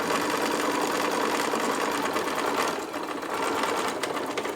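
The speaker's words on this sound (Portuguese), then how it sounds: "Retrocesso no início e no final." A sewing machine backstitches fabric at the start and end of a seam on a cloth toiletry bag, running in a loud, steady rapid whir with a brief slowdown partway through.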